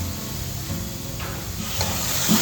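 Steady sizzling from hot oil fills the clip as cumin, curry leaves and ginger-garlic paste fry for a paneer curry, a continuous close hiss with faint crackles.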